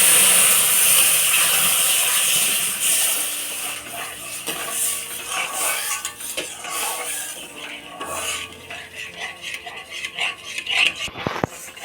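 Milk poured into hot fried semolina in a pan gives a loud initial hiss that fades into softer bubbling and scraping stirs, with utensil clinks and a voice at times.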